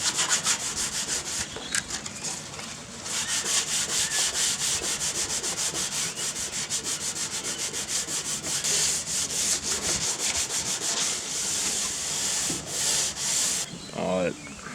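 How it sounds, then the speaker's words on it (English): Factory paint on truck doors being sanded gives a rhythmic, scratchy back-and-forth rubbing. Strokes repeat steadily at close range, with short pauses and a brief knock near the end. "got to sand it all back and make it fresh for the primer to stick on"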